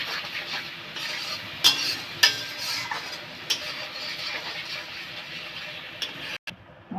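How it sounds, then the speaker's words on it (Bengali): Spice masala with a spoonful of salt being stir-fried in a pan: a steady soft frying hiss with a few sharp spoon scrapes and clinks against the pan, no talking. "এবার ভালো করে মশলাটাকে কষে নেব"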